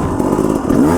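Enduro motorcycle engine revving loud and close, a continuous rough, throaty drone with slight swells in throttle, no voices.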